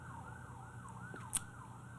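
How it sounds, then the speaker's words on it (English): Emergency vehicle sirens wail outside, faint and distant, their rising and falling tone cycling steadily over a low background hum. "just like right now, you hear these sirens. That's real."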